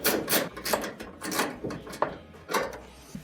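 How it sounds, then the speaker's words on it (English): A small quarter-inch screw being turned out of a clothes dryer's top panel gives repeated scraping, rasping twists in short bursts, close up and with no talking. "Twist that screw out and set it to the side."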